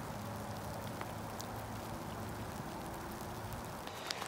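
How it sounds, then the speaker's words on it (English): Heavy rain pours steadily during a convergence zone storm in Perris, California, a dense continuous hiss of drops on surfaces, close and unbroken, with no voices. "the rain is really picking up again"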